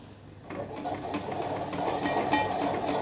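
Aloo paratha filling is stirred in a pan, giving a continuous scraping, clattering spoon-on-metal texture that starts after a short quiet moment and grows slightly louder, with no talking.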